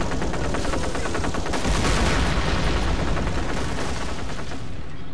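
Dense rattling gunfire from a Company of Heroes battle, rifles and machine guns overlapping in a continuous loud barrage with rapid rhythmic bursts and no pause.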